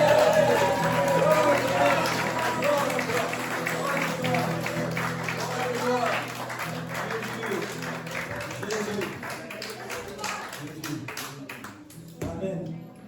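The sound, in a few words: church congregation cheering acclamation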